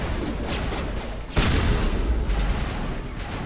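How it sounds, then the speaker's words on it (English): Gunfire in the video game Mass Effect 1 Legendary Edition, a loud, dense rattle of shots that swells sharply partway through and keeps going under a steady wash of game noise. "we're getting shot at"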